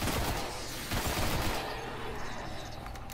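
Shotgun blasts in the Destiny beta video game, several loud booming shots in quick bursts over a continuous game soundscape, with no voices over them.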